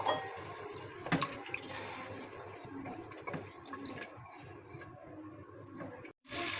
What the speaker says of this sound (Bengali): এখন একটু পানি দিয়ে মাংসটা সিদ্ধ করে নেব।